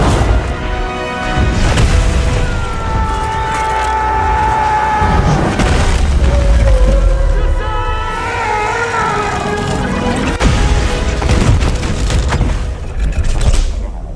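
A magic staff overloads and explodes in a film: a loud, dense burst of explosive booms and crashes, dramatic and sustained, with rumbling low end and shifting tonal layers like a cinematic blast.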